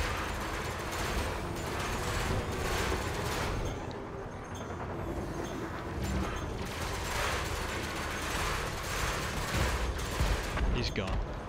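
Ship weapons in the space game Elite Dangerous firing on a target, a dense continuous rattle of rapid shots and mechanical clatter that stays loud and close, with a short lull partway through.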